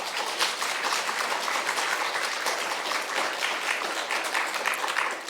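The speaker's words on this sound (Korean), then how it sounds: "박수가 약해지고 있습니다." Steady applause from a church congregation at a Sunday worship service, a dense continuous patter of many hands clapping throughout, fairly loud and even with no voices over it.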